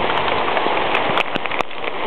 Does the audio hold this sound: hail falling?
yes